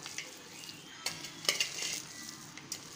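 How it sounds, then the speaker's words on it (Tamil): Banana flower vada batter with fennel and onion being mixed by hand in a bowl, soft quiet stirring and squelching with a few brief scraping bursts, no voices. "இப்போ எல்லாத்தையும் ஒன்றா கோராக பிணைஞ்சிப்போம்"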